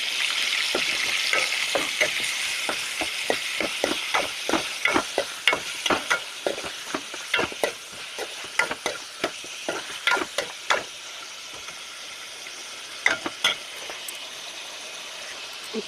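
Chicken fries in a pan with a steady bright sizzle, broken by many sharp clinks and scrapes as it is stirred, busiest through the middle and thinning toward the end.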